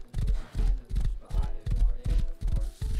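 A horse in the video game Rust gallops at full speed, its hooves pounding in a steady, rapid rhythm of heavy thuds, loud and close.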